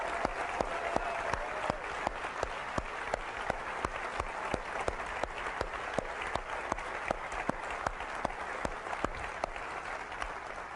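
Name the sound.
audience applause at Apple special event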